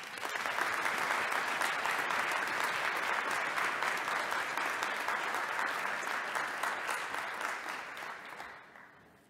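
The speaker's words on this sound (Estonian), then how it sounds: "saadame talle otse ülekande abil suure aplausi." Sustained applause from a large crowd at a university academic ceremony, the anniversary gathering of Tallinn University of Technology, dense and steady for most of the stretch before fading out at the end.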